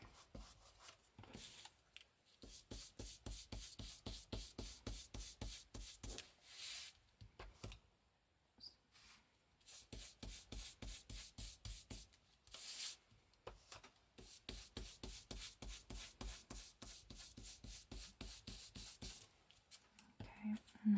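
A craft brush rubs back and forth across paper while making ephemera with die-cut embossed pieces, a close, quiet run of rapid rhythmic strokes in bursts with short pauses.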